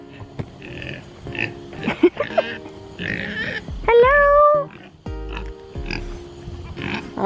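Pigs grunt and squeal in short bursts close by, mixed with a person calling out and brief speech.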